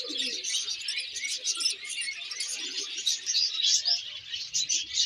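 Doves coo and small cage birds chirp steadily at a busy bird market in Al-Qurna, Iraq, with dense, overlapping twittering close by and soft cooing underneath.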